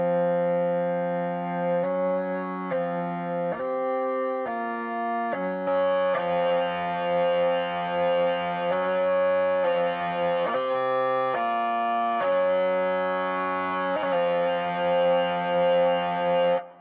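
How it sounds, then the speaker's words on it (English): A hurdy-gurdy played through a NUX TubeMan MK II tube-screamer-style distortion pedal gives a continuous saturated drone under a changing melody, growing fuller and louder after a few seconds, with no talking. "one of my favorite effects in this pedalboard, which is the Distortion, is the NUX TubeMan MK II"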